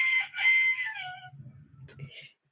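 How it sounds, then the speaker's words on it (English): A hen crows like a rooster, a drawn-out, close cock-a-doodle-doo followed by a few low clucks and a brief clatter, heard alone without talk. "who crows every morning. She thinks she's a rooster."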